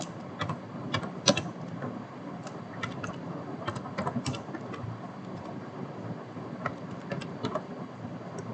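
Fingers type a command on a computer keyboard during a network penetration-testing demo, giving a steady patter of soft clicks with a few sharper key strikes scattered across the stretch.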